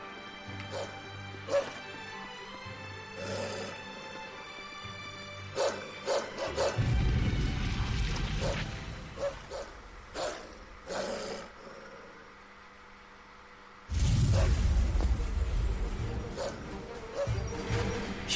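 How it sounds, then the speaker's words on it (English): A dog in the video game Tales of Zestiria yips, whimpers and barks in short bursts over game music, with a couple of louder rumbling passes between the calls. "That dog. What's gotten into it?"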